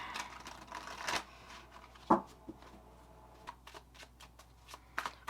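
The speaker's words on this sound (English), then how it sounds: "we'll just do a couple of little shuffles just to get it good and mixed up" A tarot card deck being shuffled by hand, soft riffling and sharp card snaps close by, including a loud snap midway, in a quiet room with no talk.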